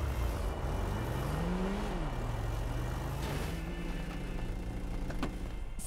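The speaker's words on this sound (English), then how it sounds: "You're doing burnouts in the street." A rented truck does burnouts in a residential street, its engine droning steadily and rising and falling in pitch as it revs, loud and continuous throughout.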